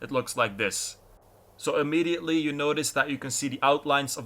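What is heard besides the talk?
No everyday noise stands out behind the speech.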